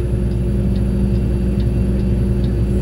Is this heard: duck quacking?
no